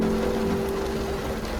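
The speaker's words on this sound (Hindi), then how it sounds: "और बारिश शुरू हो गई।" Steady rain falls in hilly country, a dense continuous hiss with a constant low hum underneath, unchanging across the short stretch.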